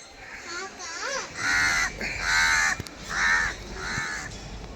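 A crow caws repeatedly nearby at a grandmother's house, four or five loud harsh calls in a row, with a voice and other talk around them.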